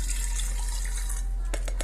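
Filtered water is poured for home-brewed craft beer in a steady, close trickle, with a few sharp clinks near the end.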